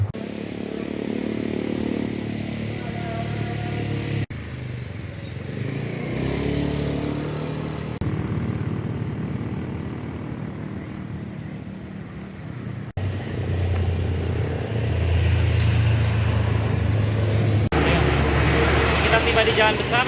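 Traffic on a main road between Wonosobo and Magelang in Indonesia: a continuous roar of passing cars and motorcycles, swelling louder as vehicles go by, with people talking over it while waiting for a bus.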